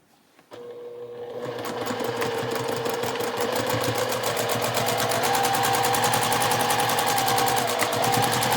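A sewing machine runs close and loud, stitching the bottom seam of a zipper pouch in one continuous fast rhythmic whir that starts abruptly and keeps going without a pause.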